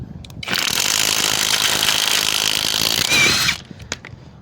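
A Hyper Tough 12 V cordless impact wrench loosening a car's wheel lug nuts torqued to 140, a loud sustained hammering rattle for about three seconds that starts abruptly and cuts off, then a few brief clanks.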